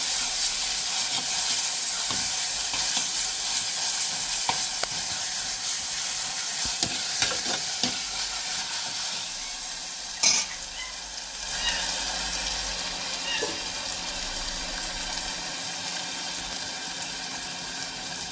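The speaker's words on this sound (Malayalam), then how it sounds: "ഇതിൻ്റെ പച്ചമണം ഒന്ന് പോയി കിട്ടട്ടെ. അതോളം ഇങ്ങനെ ഇളക്കി കൊടുക്കാം." Boti masala paste fries in a pan with a steady sizzle, broken by repeated scraping and clinking strokes of stirring and one sharper knock near the middle; no voices.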